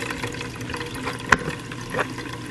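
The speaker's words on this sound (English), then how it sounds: "And you squeeze the chaff to drain every single coconut in it." Squeezed grated coconut drains its milk through a strainer, a steady close trickle of liquid with a couple of brief splashes.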